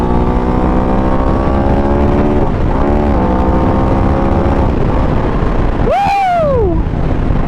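An Aprilia RS 660 motorcycle engine revving loudly up through the gears on a ride, with the pitch rising and then falling and a sharp rising whine near the end, heard over strong wind rush.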